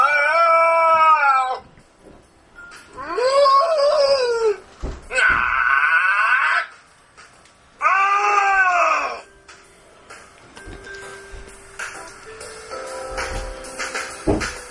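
A pet parrot mimics a cat with long, loud, drawn-out meows and caterwauls, four separate wailing calls with pauses, then quieter whistles and chirps.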